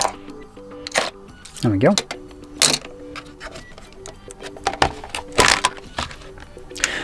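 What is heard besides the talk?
knife cutting open phone case packaging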